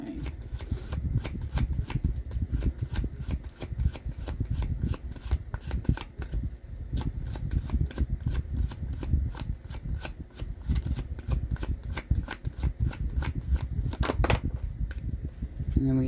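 Tarot cards are shuffled by hand in a rapid run of crisp riffling flicks and taps, close and fairly quiet, continuing steadily with no talking.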